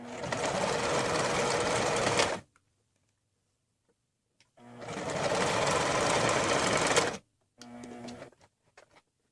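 Close, loud sewing machine runs stitching t-shirt seams: two steady runs of a couple of seconds each, then a shorter burst, with near-silent pauses between.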